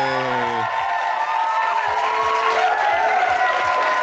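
Steady, dense applause with cheers and whoops from a crowd on a talk show, loud and continuous, with a brief tonal sting at the start.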